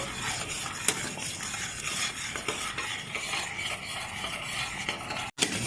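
Jaggery filling cooking in a pan, stirred with a spoon that scrapes and clinks against the metal over a low bubbling sizzle, continuous and close, with a brief silent gap near the end.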